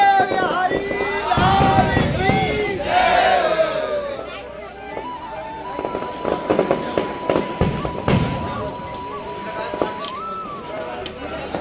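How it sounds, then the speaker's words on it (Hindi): Fireworks crackle and pop at the Shri Ji palace in Barsana during Radhashtami celebrations, scattered bursts under a busy crowd and voices, with a sustained tone running through the middle. "आप उन आतिशबाजियों को देख सकते हैं जो उस समय पर श्री जी महल में चलाई जा रही थी"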